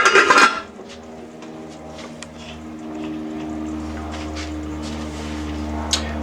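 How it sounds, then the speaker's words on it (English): Five ravioli are plunged into sauce in a pot, starting with a short loud clatter of metal against metal and then a low steady simmering hum, close with no talking. "I'm going to plunge them into the sauce"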